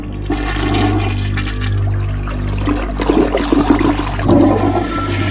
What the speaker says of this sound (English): and then you hear a toilet flush